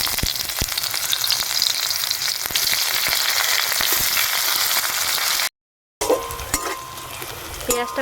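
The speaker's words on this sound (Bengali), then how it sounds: "তেলটা গরম হয়ে গেছে, এবার দিয়ে দেবো পেঁয়াজ কুচি।" Chopped onion hits hot oil in a kadai and fries with a loud, continuous sizzle, broken by a brief gap, then quieter sizzling with utensil clinks and stirring.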